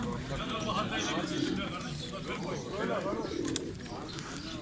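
Pigeons coo softly in low, rolling bursts while people talk nearby, over a busy background of chatter and clatter.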